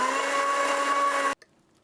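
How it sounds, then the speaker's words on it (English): A blender runs loud and steady, whirring through a thick buckwheat focaccia topping mixture, then cuts off abruptly near the end, leaving a brief faint clatter. "it needs to be blended more"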